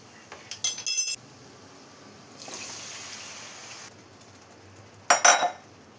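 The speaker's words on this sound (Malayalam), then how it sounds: "ഇതിലോട്ട് നമുക്ക് മാങ്ങ കട്ട് ചെയ്ത് വെച്ചതും കൂടെ ചേർത്ത് കൊടുക്കാം" Cut mango pieces tipped into hot pickle masala in a pan: sharp clinks of a utensil on metal come in two short bursts around a soft hiss, with no talk.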